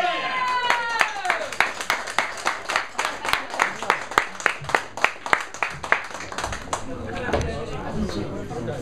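An audience at an EP release party gives rhythmic, evenly timed group clapping in welcome to the band, loud and close, with cheering and chatter, after a ringing tone at the start.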